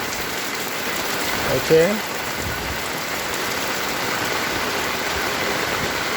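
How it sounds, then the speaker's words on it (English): Heavy rain pours steadily onto the streets of The Gambia during the rainy season, a dense even hiss throughout, with a brief voice and a small clatter near the start. "how the rains really get heavy and how the streets of the Gambia look like right now"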